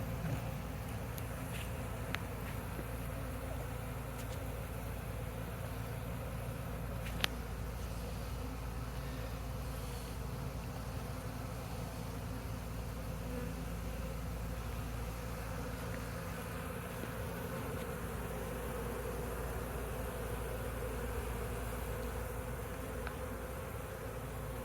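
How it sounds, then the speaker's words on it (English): Bees buzzing as they leave a hive inside a cut log during a hive removal after smoking, a continuous low drone of many insects outdoors, steady throughout with a faint engine-like hum beneath. "The exodus of bees from the main hole has subsided considerably."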